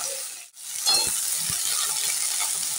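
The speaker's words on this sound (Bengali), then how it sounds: "উল্টে পাল্টে ঢ্যাঁড়সটা ভেজে নিচ্ছি।" Okra is stirred and fried in a wok over lowered gas heat. After a brief dip, a dense, continuous sizzle fills the clip, with scraping knocks from the spatula close by.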